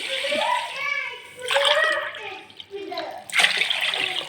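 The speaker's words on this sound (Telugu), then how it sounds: "ఇక్కడ త్రీ గ్లాసెస్ వాటర్ అయితే వేస్తున్నా అండి" Water splashes and pours in short bursts into a cooking pot, three glasses in all, while a person talks over it, for cooking ragi mudde.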